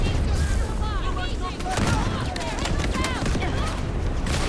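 Sniper rifle gunshots from the video game Delta Force ring out amid dense, continuous battle noise with booms and other gunfire, loud throughout.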